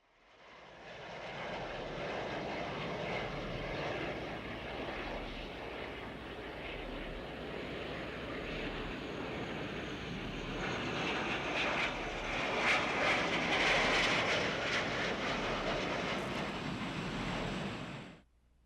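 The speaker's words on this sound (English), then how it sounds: "in the opening sequence the sound of airplanes, of jets, of fighter jets" Fighter jet roar from the film "The Battle of Chile" (1975), steady overhead, a broad continuous rumble that swells slightly near the end before cutting off.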